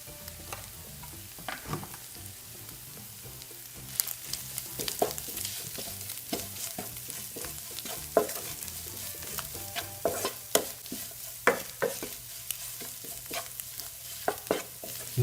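A chicken pasta mixture is stirred in a pan: repeated, irregular scraping and clacking strokes of the spoon over a soft, low sizzle, with no voices.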